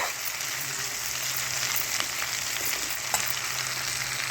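Cauliflower and fenugreek leaves fry in a pan with a steady, close sizzling hiss and a few light clinks of stirring.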